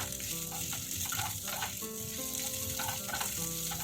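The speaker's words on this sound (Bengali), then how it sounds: "পেঁয়াজ দিয়ে হালকা নেড়ে চেড়ে নেব।" Capsicum and onion stir-fry in a hot pan with a constant close sizzle, broken by soft scraping and tossing sounds as the pieces are stirred, with no voices over it.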